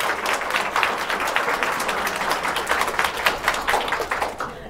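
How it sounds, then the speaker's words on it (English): Applause at the close of a Tech Ladies bootcamp and mentorship info session, a moderate crowd clapping steadily and densely for several seconds, fading slightly toward the end. "Can I have a round of applause, please?"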